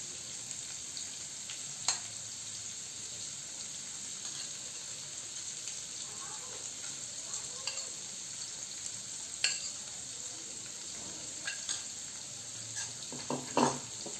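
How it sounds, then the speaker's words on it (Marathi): Marinated paneer cubes frying in a pan make a soft, continuous sizzle, quiet and fairly distant, with scattered scraping and tapping as the cubes are turned on all sides. "पनीरचे क्यूब आपले छान फ्राय झाले आहेत."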